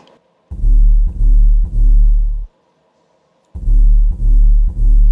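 A Yukari 808 bass sample used as the low end of a trap drop, booming alone in two groups of three long, heavy sustained hits separated by a short gap, loud and deep with no talk.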